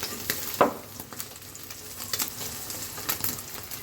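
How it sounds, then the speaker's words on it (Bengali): An egg frying lightly in a pan gives a soft, continuous sizzle with occasional clicks and taps of a utensil, close by but fairly quiet, with no talking. "খুব বেশি ভাজবো না, হালকা একটু ভাজা দেব।"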